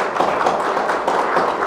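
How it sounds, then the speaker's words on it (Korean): Applause from a seated audience welcoming a guest at a formal Korean National Assembly forum on legislation for national universities, a steady dense patter of many hands, fairly loud and continuous throughout. "큰 박수로 환영합니다."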